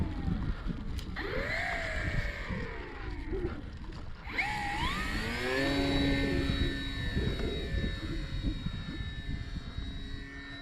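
A radio-controlled model airplane, a restored Cermark Fantasy Flyer, buzzes overhead with a steady engine drone whose pitch swoops up and down as it passes and turns, loud and continuous throughout, with no talking.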